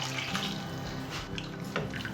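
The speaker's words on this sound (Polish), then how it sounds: "I doleję do tego gorącej, przygotowanej wody." Hot water pours steadily into a pot of Brussels sprouts soup with potatoes, a continuous close splashing stream heard alone.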